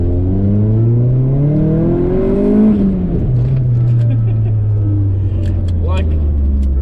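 A Nissan Pulsar SSS engine revs up through the gears with a loud, throaty exhaust, pitch climbing then dropping as it shifts, ending in crackles.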